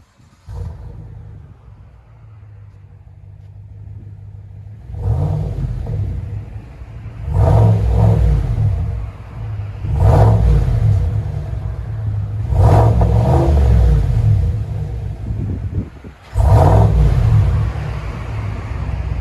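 A GMC Sierra 6.2L V8 pickup with an aftermarket exhaust rumbles at idle, then roars through several deep, throaty revs in repeated bursts, loud and close, about 94 decibels.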